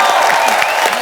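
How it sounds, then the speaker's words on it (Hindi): Studio audience on a comedy show breaks into loud applause with some cheering, a dense continuous roar of clapping close by, with voices mixed into the crowd noise. "राजू भाई के लिए जोरदार तालियां"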